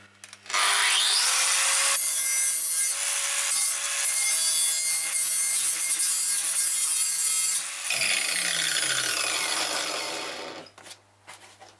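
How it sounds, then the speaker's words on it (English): A 110 volt angle grinder fitted with a flat disc smooths the edges of a Land Rover Series III front panel, grinding loudly and steadily for about ten seconds before winding down, with transformer hum underneath. "I've just got a flat disc in this grinder."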